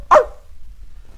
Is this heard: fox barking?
yes